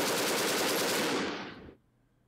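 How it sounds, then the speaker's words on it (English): Rapid machine gun fire bursts loudly in the tank combat video game Armoured Commander II, a dense rattling volley that cuts off abruptly into quiet. "Why are you using a machine gun?"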